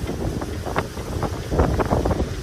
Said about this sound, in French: Donc ça y est, il y a du vent.